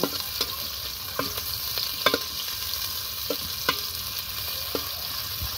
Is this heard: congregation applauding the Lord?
no